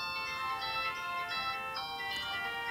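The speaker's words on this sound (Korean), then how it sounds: "전화벨 대기음이 나타나게 되고," A CSM Delta Gear toy phone sits in standby, giving off a steady electronic ringing tone: bright stacked tones hold throughout and pulse faintly in a repeating pattern, near and clear with no talk.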